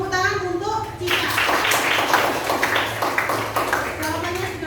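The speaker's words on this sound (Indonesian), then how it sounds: "Tepuk tangan untuk Cika." A classroom full of students claps for a classmate, a close, sustained burst of hand claps with a few children's voices under it, starting after a second of a teacher talking.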